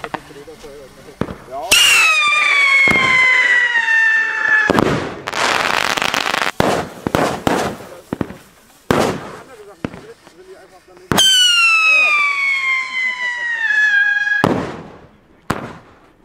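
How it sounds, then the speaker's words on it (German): Siren rockets and fireworks going off on New Year's Eve: two long, loud descending whistling shrieks, each ending in sharp bangs and crackling bursts, with scattered pops between them and brief voices in the background. "Dann haben wir jetzt wieder Funke, Sirenenraketen."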